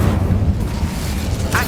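An Incendio fire spell cast in the Hogwarts Legacy video game, a loud, booming whoosh of flame filling the short moment, with a brief voice near the end.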